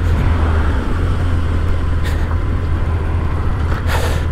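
A new motorcycle is ridden on the road, its engine giving a loud, steady, close rumble throughout with faint hiss and wind noise above it.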